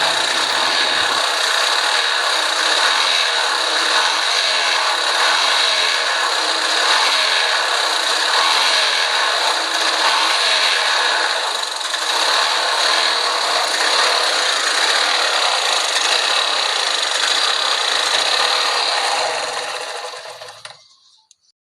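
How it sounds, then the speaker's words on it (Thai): A Suzuki Smash motorcycle engine with a carburetor fault runs loud and steady close by, a rough continuous drone for about twenty seconds before cutting out abruptly near the end, with no talking. "เดี๋ยวเราย้อนกลับไปฟังอาการนี้ของรถซูซูกิสมาร์ทกันบ้างนะครับ"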